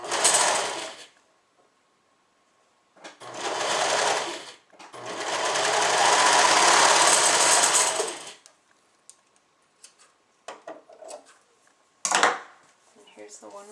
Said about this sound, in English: we are going to sew these into a circle at the side seam